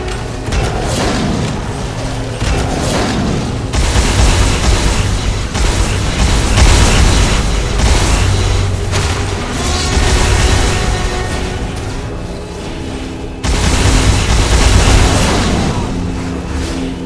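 Explosions as a bombard is destroyed in the video game War for the Overworld, loud rumbling booms and bursts layered over dense battle noise, with a fresh heavy blast near the end.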